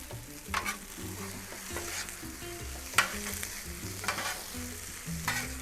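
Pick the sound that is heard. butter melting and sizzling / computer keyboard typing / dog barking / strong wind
butter melting and sizzling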